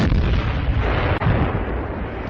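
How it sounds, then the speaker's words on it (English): Artillery fire on attacking British tanks near Agaila, recorded for a wartime German newsreel of the Afrika Korps in North Africa: a dense, continuous roar of booming and crackling that stays loud throughout, with one brief dip midway. "Feuer auf angreifende englische Panzer vor Agaila."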